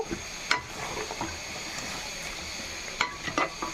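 Beans go into a bean curry with dried shark simmering in a pan, bringing a soft steady sizzle with a few sharp spoon-against-pan clacks from stirring near the start and end; no one speaks.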